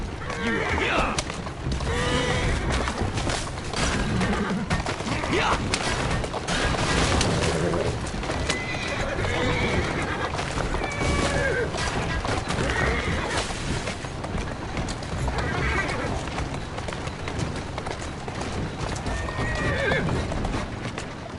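Horse hooves clip-clop in a steady rhythm with repeated neighs and whinnies in the Assassin's Creed Syndicate video game, over a busy background, while a voice speaks at times.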